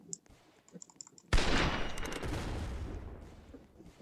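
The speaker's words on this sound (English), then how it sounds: "you want a freaking pistol that shoots fireworks? Yeah, sure. Yeah, you can have it. It's pretty fun. Got really good effects." A Roblox video game pistol that shoots fireworks: a few soft clicks are followed by one sudden loud blast, and its crackling, hissing tail fades over the next few seconds.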